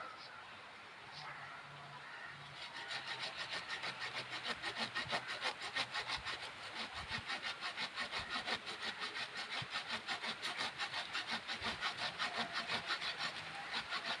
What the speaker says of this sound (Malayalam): ഇനി ഇവിടെ കട്ട് ചെയ്യാം ഇവിടെ വെച്ച് കട്ട് ചെയ്യാം